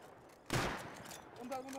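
A single loud AK gunshot in a shooter video game, sharp and close with a short decaying tail, followed by quieter game sounds.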